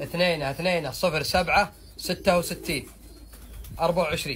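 Homing pigeons being readied for shipment to Iraq coo softly nearby, their low throaty calls running under someone talking steadily throughout.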